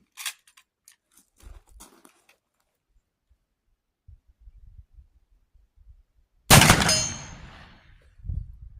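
A single loud black powder shot from a 38-55 Winchester 94 rifle, a sharp close blast with a long decaying tail, preceded by faint small handling clicks and followed by light knocks.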